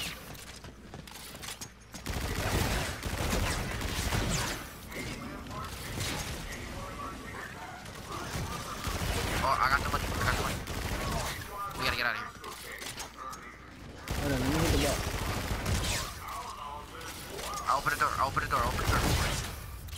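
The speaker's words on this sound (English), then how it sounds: "I got the mini gun." A minigun in Call of Duty: Infinite Warfare zombies mode fires in loud, dense bursts that keep returning over roughly twenty seconds, mixed with mechanical game noise, while a person talks over the shooting.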